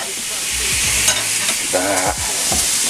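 Fillet steak, just flipped, sizzles loudly and steadily in a hot pan, a dense continuous fry with crackles and spatters through the whole stretch, with no talk over it.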